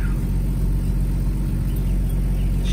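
A 1998 Jeep Wrangler, running on stale gas, idles just after starting with a steady, loud low rumble that holds evenly throughout and no voices over it.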